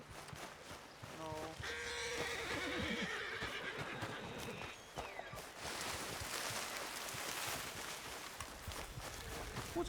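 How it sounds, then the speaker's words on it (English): A spooked horse in Red Dead Redemption II whinnies loudly near the start, with hoof clip-clops and outdoor game ambience; speech-like sounds also appear. "What's got this horse spook"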